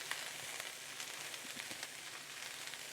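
Shredded cabbage wilts in a hot pan as it is stirred for a Korean bulgogi slaw, making a faint, steady sizzle with light crackles throughout and no voices.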